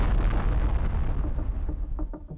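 A loud explosion sound effect of a high-pressure vessel rupturing: a heavy, rumbling blast that rolls on and then breaks into scattered pops and debris crackles as it fades.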